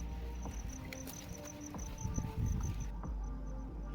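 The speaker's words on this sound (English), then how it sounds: "the hills were alive with the sound of crickets" Steady, high-pitched cricket chirps pulse in a regular rhythm over a background of outdoor rustling and faint clatter, then drop away near the end.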